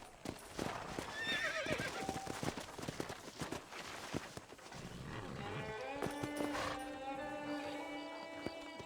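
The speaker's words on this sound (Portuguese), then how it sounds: "Tem que amarrar o cavalo" A horse in Red Dead Redemption on Nintendo Switch clip-clops in quick uneven hoofbeats, then lets out a long, clear neigh.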